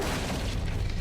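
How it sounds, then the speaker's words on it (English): Explosion in the video game Sword Hero, a dense, loud rumbling boom that fills the whole short moment without any speech. "Explosions."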